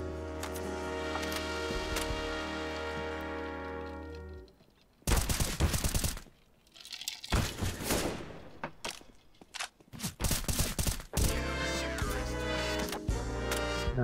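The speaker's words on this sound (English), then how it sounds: "Nice shooting, Rich." Gunfire in Counter-Strike: Global Offensive, with bursts of loud rapid shots and sharp single cracks breaking in after a sustained tonal game sound, followed by scattered clicks and footstep-like ticks.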